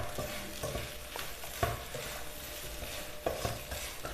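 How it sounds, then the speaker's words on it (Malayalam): Spoon stirring chicken thoran in a pan after salt is added, a gentle frying sizzle with scraping strokes and a few sharper knocks against the pan, close and continuous without talk. "ഉപ്പ് ചേർത്തതിന് ശേഷം നന്നായിട്ടൊന്ന് ഇളക്കി ചേർത്ത് കൊടുക്കാം."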